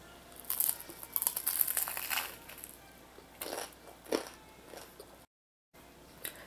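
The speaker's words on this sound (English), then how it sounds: "I'm just gonna bite into one so you all can hear how crunchy and flaky this is" Someone bites into a crunchy, flaky currant roll pastry close to the mic, a few crisp crackling crunches and crumbly crinkles in short bursts with pauses between.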